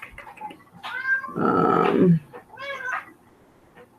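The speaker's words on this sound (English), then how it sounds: "my little cat is here wanting to participate" A pet cat meows close by in several wavering cries, one loud drawn-out caterwaul in the middle, with a brief spoken word from a person at the start.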